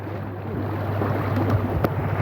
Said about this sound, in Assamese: এয়া চাওক পানীৰ সোঁত কিমান।